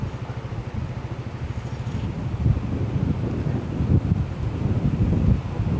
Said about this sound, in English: when you're down at the beach and it's windy like this